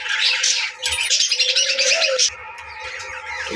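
Small parakeets chatter with busy, close chirps and a short warbling call, then the twittering drops off to a quieter background.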